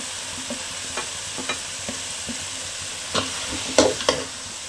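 Curry masala and chilli powder are stirred into a hot pan for egg curry, a soft sizzle running beneath a series of scraping stirs that grow louder toward the end, with no talking.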